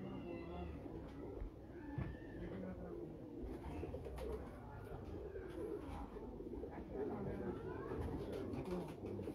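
Old antique-coloured pigeons coo softly on a rooftop loft, their low, repeated calls coming through a faint background hum as a voice speaks.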